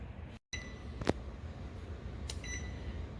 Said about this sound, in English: You can hear my buzzer ringing.